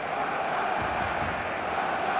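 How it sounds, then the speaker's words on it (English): Full stadium crowd in the eFootball game on match day, a steady dense roar of many voices that holds evenly throughout with no clear peaks. "The stadium is full of noise and energy."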